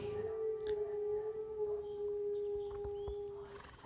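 Horse or unicorn neighing in the online game Star Stable Online during a medieval festival: a faint, long whinny held steadily over a busy game ambience with scattered clicks.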